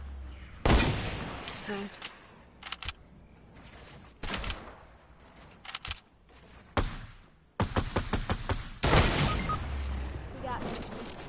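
Video-game gunfire around a sniped player: scattered sharp shots and short rapid bursts, loud and near, separated by quieter gaps, with a brief spoken word among them.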